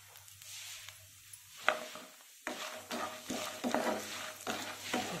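Chana dal and mustard seeds fry and get stirred in a pan, giving a steady sizzle with scraping and clinking of a spoon against the pan, close and fairly quiet, growing busier in the second half.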